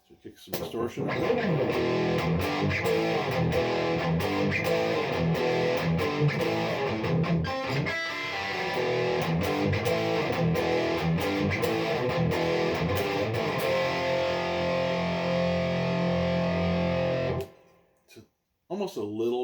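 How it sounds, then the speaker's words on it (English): An EVH Wolfgang electric guitar with a basswood and maple body, played on the bridge pickup, roars loud and bright through heavy distortion in sustained chords and riffing for about seventeen seconds before cutting off, then a few short stabs. "So kick some distortion."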